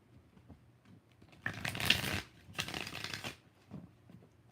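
Tarot cards are shuffled in two quick, close bursts of riffling card noise, each lasting under a second, with quiet room sound between and no talk.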